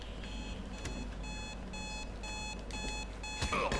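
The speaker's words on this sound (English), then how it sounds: "Well, the beeping's already going there" Steady electronic beeping sounds in the video game Hitman 2, a repeating alarm-like tone pulsing evenly throughout, with a brief louder clatter of game noise near the end.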